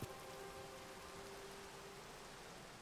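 Rain falls in the video game Minecraft as a steady, even hiss of downpour that holds at a constant level throughout, with no voices.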